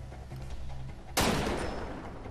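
A single sharp gunshot rings out in the jungle shooter Far Cry 2, a loud crack followed by a long, echoing tail that fades over the next second above low background ambience.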